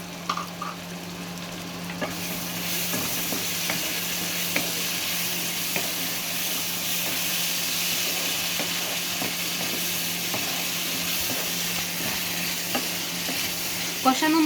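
Spoon stirring chopped tomatoes into fried spice paste in a pan for a Bengali puti fish bhuna, a steady soft sizzle with scraping stir strokes, close and alone.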